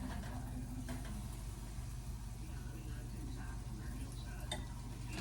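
Applesauce pancakes cook on a stove in Florence, Oregon, giving off a soft, steady sizzle under a low continuous hum, with faint clinks and scraping now and then.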